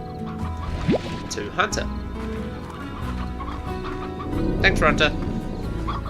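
Chickens cluck and chatter in the Slime Rancher video game, several bursts of clucking over ongoing game sounds, with a person talking over them.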